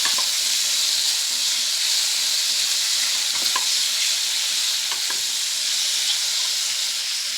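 Raw mango pieces sautéing in a pan with green chilli and nigella seeds give a continuous loud sizzle, with occasional stirring scrapes and pops over the steady hiss.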